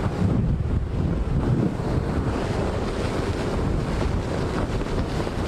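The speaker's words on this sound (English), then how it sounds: "The wind is really picking up now." Strong Hurricane Irma winds roar by a bay, a loud, steady broadband rush of gusting wind and churning surf buffeting the microphone without letup, with no voices.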